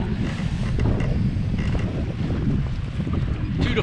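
A sailboat under sail with its motors off, in wind and chop of two to four feet, gives a steady rush of wind and water with occasional creaks throughout.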